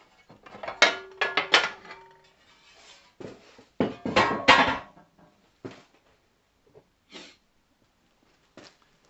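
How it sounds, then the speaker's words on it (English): The front cover of a woodworking bandsaw is taken off, with a series of metallic clanks, knocks and rattles in bursts, then quieter scattered clicks with gaps of silence between. "I'll now take the lid off, or the front off"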